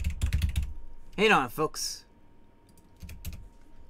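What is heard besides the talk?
fast typing on a computer keyboard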